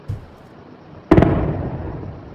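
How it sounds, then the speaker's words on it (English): Fireworks: a faint pop opens the clip, then one loud, close burst cracks and rumbles away into a long fading tail, with no voices. "Yay, fireworks."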